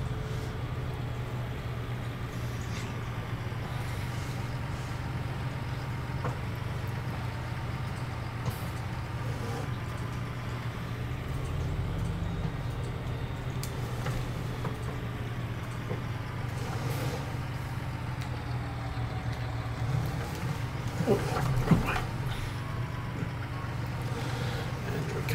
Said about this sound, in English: The fun task of controlling a tractor in the snow.